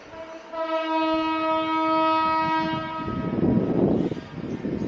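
At a large railway station, an intercity train sounds a long, steady horn blast, followed by a heavy, rising rumble of wheels and engine nearby.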